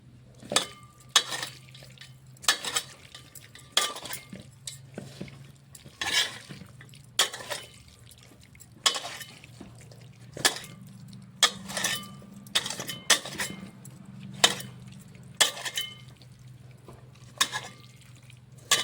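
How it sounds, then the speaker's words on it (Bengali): Morali fish curry being stirred and mixed in a pan with oil, a close, rhythmic series of metal spoon scrapes and clinks against the pan repeating every second or so over a low background hum. "এটা এটাকে ভালো করে মিশিয়ে নিতে হবে"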